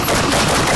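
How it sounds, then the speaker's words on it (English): Gunfire from a cartoon-style Mario and Luigi action scene, a dense rapid burst of shots filling the short moment, loud and close with no talking. "somebody just tried to shoot us"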